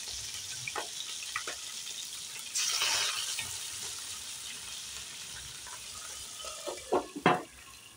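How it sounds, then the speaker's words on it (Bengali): Fish frying in hot oil gives a soft, continuous sizzle under scattered spatula scrapes and clinks, with a brief louder burst of crackle partway through and a few sharper knocks near the end. "মাছগুলো কড়া করে ভেজে নেব।"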